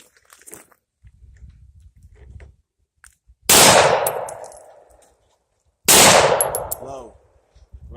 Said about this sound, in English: Shoot high. So try to hit the top of the target.